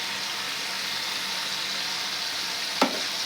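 A masala of garlic, onion and green chilli with ginger and tomato paste sizzles in a pan, a steady close hiss with one brief clink of a utensil near the end.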